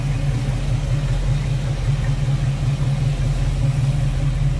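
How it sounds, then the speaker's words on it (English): A 1969 Chevrolet Nova two-door post with headers and HEI ignition idles smoothly, giving a steady, low, rumbling drone at an even level throughout, close to the car, with no voices. "HEI ignition, nice smooth running engine."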